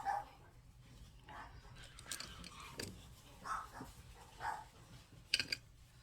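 Distant dogs, one a 7-month-old puppy, bark and yelp intermittently over quiet background noise, punctuated by a few sharp clatters.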